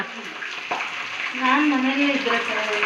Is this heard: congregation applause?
no